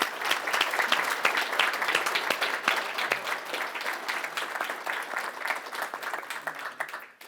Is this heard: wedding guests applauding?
yes